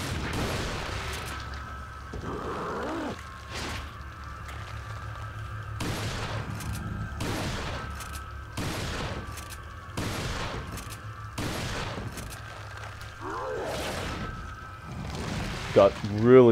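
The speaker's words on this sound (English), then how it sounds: "Just blown off these shotgun shells" Heavy shotgun blasts in Resident Evil 4 on the Wii boom out roughly every second or two, about eight loud, evenly spaced shots, each with a short ringing tail.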